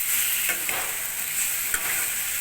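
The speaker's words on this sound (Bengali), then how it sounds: "নাড়াচাড়া করবো, টক দই দিয়েছি যেহেতু।" A spoon scrapes and turns desi chicken curry with sour yogurt in a pan over a steady sizzle, with a few distinct scrapes standing out. No one speaks.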